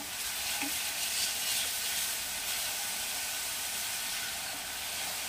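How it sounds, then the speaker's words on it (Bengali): A steady, moderately loud sizzle and hiss of a little water splashed into a hot pan while cooking Bengali koi fish curry with red chilli powder, continuous and without gaps, no voices present. "এবার একটু জল দিয়ে দেবো, সামান্য একটু, এর মধ্যে একটু জল দেবো।"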